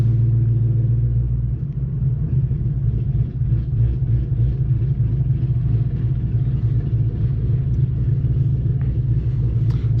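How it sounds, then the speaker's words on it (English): A car engine idles steadily on a Lund Racing ghost cam idle tune running E70 fuel, with a loud, continuous low rumble and a slightly uneven, lopey pulse throughout. "I'm gonna go into the ghost cam right now"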